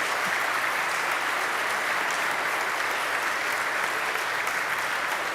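A church audience applauds a newly married couple after Mass, a dense, steady round of clapping that fills the whole stretch without pause.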